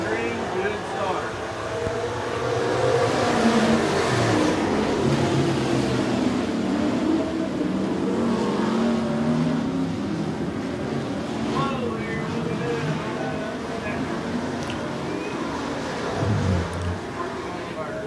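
Street stock race cars at a heat-race start on a speedway oval, a pack of engines roaring and swelling at a distance beneath a track announcer's commentary.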